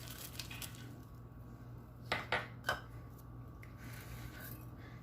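Eggless oat and carrot cake batter being mixed in a bowl, quiet scraping with a few sharp utensil knocks against the bowl over a low steady hum.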